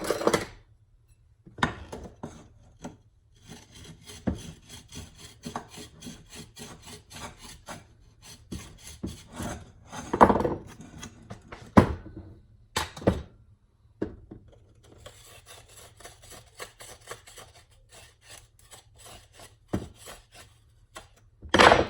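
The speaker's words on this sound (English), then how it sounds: "So what I'll do with that is I'll just grind it down just a little bit." Grinding holes in a carbon fiber upper shaft for a Minelab Equinox metal detector: intermittent rasping strokes and scrapes in short bursts with pauses between, close, with occasional louder knocks, and no talking.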